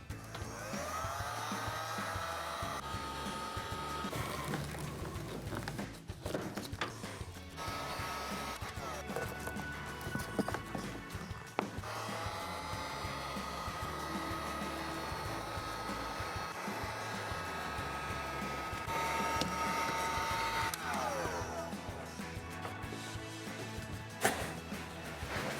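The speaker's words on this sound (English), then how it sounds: "We're going to be using a heat gun to heat that up and a pair of pliers to pull it loose from the metal" Heat gun blowing hot air on the arrowhead seal of a pop-up camper's canvas in its metal channel: a steady, close whirring hiss that runs the whole time, with faint handling clicks and rustles.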